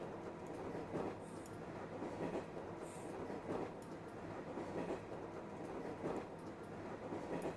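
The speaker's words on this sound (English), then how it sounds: "This train noise, I hate it." Train noise in the visual novel game Memories Off, a steady rumbling rail clatter with rhythmic clickety-clack swells and faint wheel squeals, heard alone at low level.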